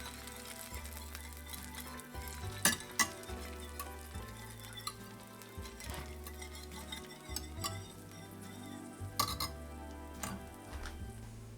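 Garlic is stirred through melted butter in a pan for garlic toast, a faint soft sizzle with occasional utensil clinks against the pan, sitting beneath steady background music.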